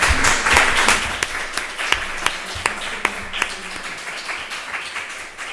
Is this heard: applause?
yes